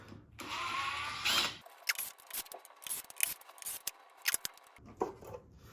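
Torx T15 screws being backed out one by one to open the base of a Segway Ninebot Max G2 scooter: a brief steady whir from a driver, then a string of short, close clicks and small metallic ticks.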